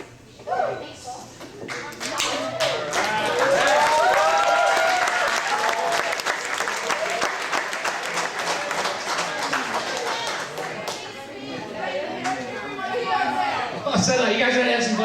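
Sustained applause from a crowd of students and parents at a high school senior all-nighter event, loud and steady for most of the stretch with a brief dip midway, and a few voices calling out over the clapping.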